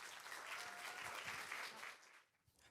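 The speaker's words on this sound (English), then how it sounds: "Can we give Manav a round of applause to welcome him?" Summit audience at a financial services expo applauding to welcome a speaker, a broad burst of clapping that holds steady before tapering off quickly near the end, fairly faint and distant.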